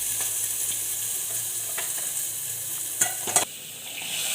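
Green chillies fry in a pan with a steady, close hiss of oil, broken by a few light stirring scrapes and two sharper clinks near the end; no one speaks.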